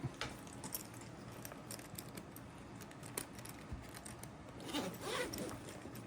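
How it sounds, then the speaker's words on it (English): A zipper drawn along a J & J 4x8 pool cue case holding cue shafts, heard as a quiet, steady rasping run with a louder stretch near the end, close by and with no talk. "Let's zip her up."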